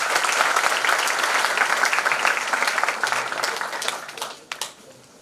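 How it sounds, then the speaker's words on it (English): An audience at a Lomonosov Moscow State University ceremony gives a full round of applause, dense and steady at first, then thinning into scattered final claps before quiet. "Please give her a huge round of applause"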